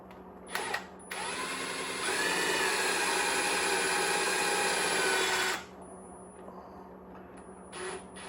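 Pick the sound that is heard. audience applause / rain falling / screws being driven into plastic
screws being driven into plastic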